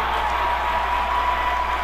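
A wrestling crowd at an underground show, a steady wash of cheering and booing held at even loudness with no clear peaks.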